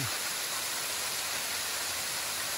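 A waterfall cascading down a rock face along a mountain trail gives a steady, dense roar of falling water, unbroken and without voices.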